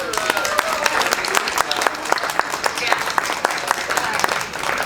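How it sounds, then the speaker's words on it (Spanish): An audience at a book fair in Viña del Mar applauds a poet, sustained crowd clapping with distinct sharp hand claps standing out across the whole stretch. "pido para ella un gran aplauso"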